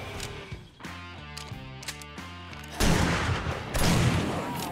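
Gunfire in the video game 7 Days to Die: loud bursts of shots crack out after a tonal in-game stretch, with one volley near the middle and another shortly after.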